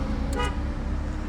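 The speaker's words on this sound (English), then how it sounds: "beep beep, no idea where it is" A short car horn beep in traffic sounds over a steady low engine rumble from a car waiting at lights, the honk brief and moderately close.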